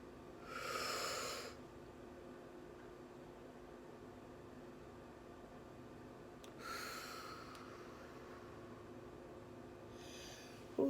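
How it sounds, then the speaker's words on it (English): A person takes three slow, audible breaths spaced several seconds apart, each a breathy rush of air close to the microphone, against a quiet background hum. "Breathe in, breathe out."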